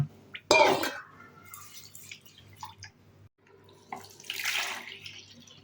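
Water splashes and drips as mixed lentils are rinsed in a bowl, with a sharp slosh early on and a softer swirl near the end.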